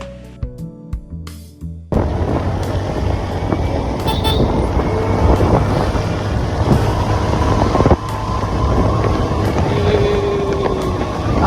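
A 2018 Yamaha Mio scooter under way on the road, a continuous engine and road rumble with traffic around it, brief horn toots, and voices talking over the ride.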